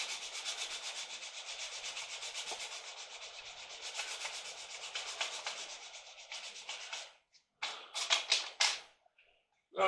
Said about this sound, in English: Then some smoother sandpaper.